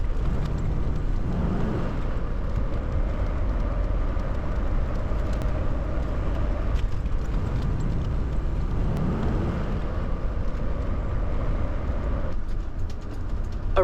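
A motorhome rolls along a road on its way to an annual vehicle inspection in New Hampshire, with steady engine drone and road rumble heard from inside the cabin.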